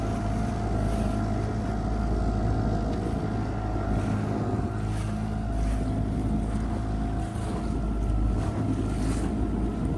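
A small sailboat motor-sails into the wind, pushed by a 6.5 horsepower outboard at about half throttle near 6 knots; the engine drones steadily under strong wind and water noise, loud and unbroken throughout.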